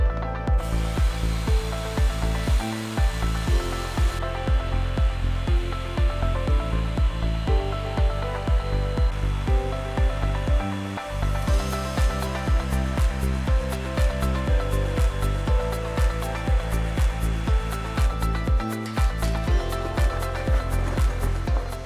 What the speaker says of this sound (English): the laser hits the plywood